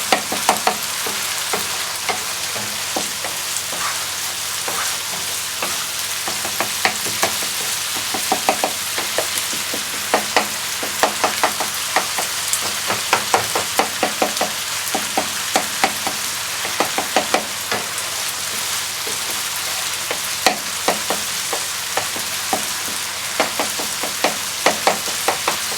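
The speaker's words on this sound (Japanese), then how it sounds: "強火で水分飛ばしていきます。" Japanese-style mapo tofu fries over high heat in a pan, with a steady loud sizzle and frequent sharp knocks and scrapes of stirring throughout, with no talking.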